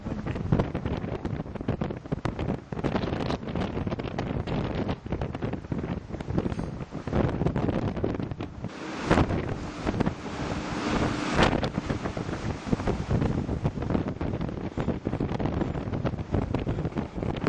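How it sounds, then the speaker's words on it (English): Strong wind on a very windy day at the Bluebell Railway Northern Extension, roaring and buffeting the microphone continuously with loud gusty rumble throughout, no voices. "Very, very windy."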